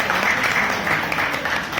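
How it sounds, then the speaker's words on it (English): Audience applause at a Toastmasters meeting: steady, dense clapping from a roomful of people, sustained evenly without pause for about two seconds. "A big round of applause for all the evaluations."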